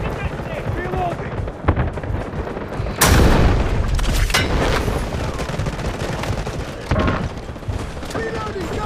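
Battlefield combat in the video game Delta Force Warfare, a 24v24 attack-and-defend match: rapid bursts of gunfire and heavy explosions, with a big blast near the middle and scattered shots after, under shouted voice lines.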